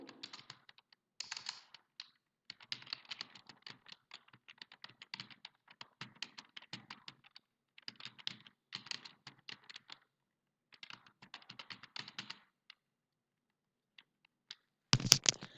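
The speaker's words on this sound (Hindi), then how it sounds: "कुछ भी टेक्स्ट हम यहाँ पर टाइप कर लेते हैं" Someone types text on a computer keyboard in Microsoft Word, a close, dry patter of key clicks in irregular bursts with short pauses, ending in a louder final clatter.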